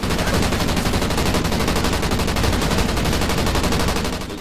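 A light machine gun fires in the Call of Duty: Ghosts campaign, one long, loud, unbroken stream of rapid automatic shots that keeps going without any talk.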